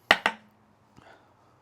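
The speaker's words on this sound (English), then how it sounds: "Great crunch with cucumber and the pepper." Two sharp, crisp crunches come in quick succession as someone bites into smoked salmon dip with cucumber and pepper, followed by a fainter third crackle and quiet chewing.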